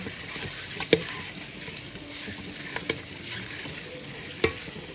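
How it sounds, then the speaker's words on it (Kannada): Spices shallow frying in oil make a continuous soft sizzle, broken by a few sharp clicks of a utensil against the pan. "ಎಲ್ಲ ಸ್ಪೈಸಸ್ ಎಲ್ಲ ಎಣ್ಣೆದಾಗ ಹಾಕಿ ಈ ರೀತಿ ಹಿಂಗೆ ಒಂದು ಸ್ವಲ್ಪ ಒಂದು ನಿಮಿಷ ಎಣ್ಣೆಗೆ ಇದು ಮಾಡಿ, ಇಷ್ಟೇ ಶಾಲೋ ಫ್ರೈ ಮಾಡಿ."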